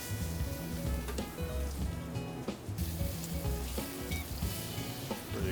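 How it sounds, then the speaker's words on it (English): Wagyu sirloin cap searing in a hot pan with high-fat oil, a loud continuous close sizzle and crackle with scattered spitting pops, no voices. "So we have our initial sear."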